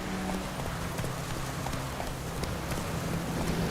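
Hooves of Roach, the horse in The Witcher 3, clopping at a steady trot over ground, a regular rhythm of light thuds under a wash of wind and ambient outdoor hiss.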